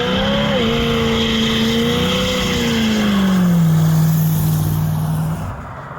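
A 1969 Chrysler 300 street machine drives down the road with a loud, steady engine drone close by. The pitch rises and falls slightly, then the sound drops away near the end.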